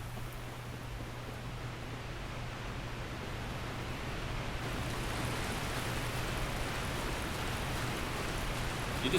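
A waterfall in Dark Souls, near the Artorias DLC area, gives a steady, hissing roar of falling water that grows slightly louder partway through, with no voices.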